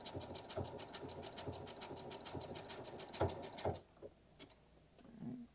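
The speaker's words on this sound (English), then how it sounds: "it's stitching over that pin." Sewing machine stitching fabric and running over a pin, a rapid steady needle patter with a mechanical hum that stops near the end, followed by a few quieter clicks.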